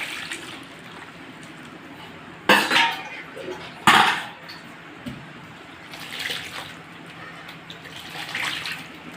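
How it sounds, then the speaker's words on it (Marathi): Grated mango is rinsed with water, with two loud splashing pours followed by softer running and sloshing water, close by. "तर आता हे आपण पाण्याने धुवून घेऊया खिस"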